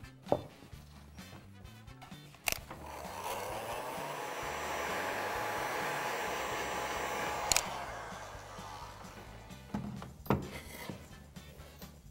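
A hair dryer blows over freshly painted wood to dry it, a steady close whirring hum that starts after a sharp knock and runs for several seconds before cutting off, with scattered handling taps around it.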